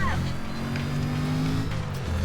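A race car in Need for Speed Carbon corners under boost, its engine droning loud and steady with a tonal whine and tire noise throughout the short stretch.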